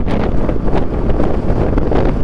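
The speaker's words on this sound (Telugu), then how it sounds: "అసలు గాలి అయితే వీస్తుంది అసలు" Strong wind near Khardung La pass in Ladakh buffets the microphone in loud, gusty rumbles that rise and fall continuously, with no voices.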